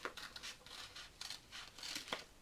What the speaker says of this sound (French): je vais essayer de prendre des ciseaux